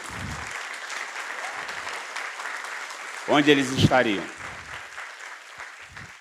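A church congregation claps in praise during a Sunday morning service, steady rapid applause filling the room while someone speaks over it briefly midway.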